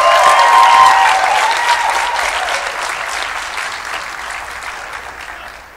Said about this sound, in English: I would like to ask our graduates to applaud their families, friends, and spouses for the support of them